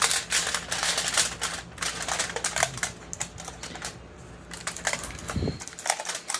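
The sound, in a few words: tearing aluminium foil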